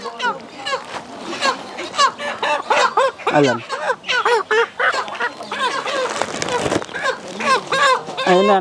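Chickens at a poultry seller cluck and squawk in dense, overlapping bursts close by, mixed with people talking.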